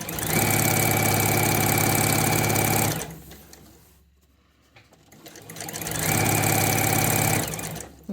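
A sewing machine stitches along the edge of a piped cushion cover, running in a loud steady whir for about three seconds, pausing briefly, then whirring again near the end.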